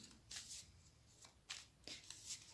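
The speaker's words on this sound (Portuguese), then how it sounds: "Vamos embaralhar." A Cigano tarot deck is shuffled by hand in several quick riffling bursts with short pauses between them, close and soft in a quiet room with no talking.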